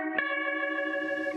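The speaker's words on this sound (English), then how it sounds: "I'm putting it through what's called a rotator, which is an emulation of a Leslie cabinet." An electric guitar chord played through a rotary Leslie cabinet emulation is struck once and rings on, a sustained harmonic tone with a shimmering, wobbly pitch.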